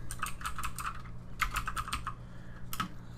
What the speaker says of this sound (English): I'm going to just simply start typing in here,